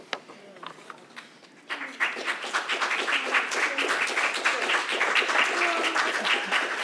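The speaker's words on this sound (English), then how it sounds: "if we could have another round of applause for Barbara, Carla, Lily, Yeva, the AV people" After a poetry performance, an audience breaks into applause, starting with a few scattered claps and swelling into steady, sustained clapping from a moderately sized crowd.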